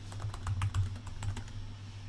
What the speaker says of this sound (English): he can either start typing away with his response